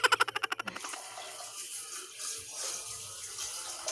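Water runs steadily from a once-leaky household faucet in a home in Türkiye, a soft continuous rush that follows a quick run of rhythmic clicks at the start, close by and with no talking.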